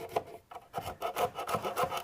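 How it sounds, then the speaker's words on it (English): Metal file rasping along the inside edges of a freshly drilled robot chassis, a steady run of rhythmic back-and-forth strokes, close and moderately quiet. "hit the inside edges with a file a little bit"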